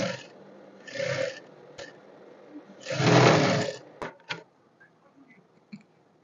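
A sewing machine runs a straight stitch through two layered fabric pieces for a bowtie, heard as two short motor bursts separated by quiet handling noises.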